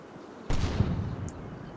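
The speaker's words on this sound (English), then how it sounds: "I'm not sure if that's an artillery shell or that T-70 cooking off a bit more there." An artillery shell or a burning T-70 tank cooking off in the war game Combat Mission Red Thunder: one sudden blast, then a rumbling tail that fades slowly over more than a second.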